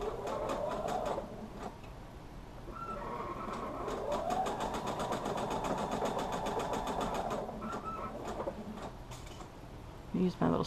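A home sewing machine stitches the first row of a quilt block together, its motor whirring in a steady fast rhythm for several seconds, stopping briefly and resuming, with soft handling clicks near the end.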